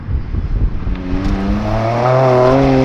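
A Toyota GR Corolla on new Fortune Auto coilovers and Toyo R888R tires driving through turns, the engine note climbing steadily under load as it accelerates, loud and close, with road and tire noise and no talk.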